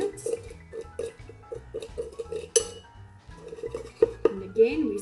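A spoon stirring tea leaves and sugar together in a kitchen container, bright clinks and scrapes against the sides in an irregular rhythm, close up, with a few sharper knocks.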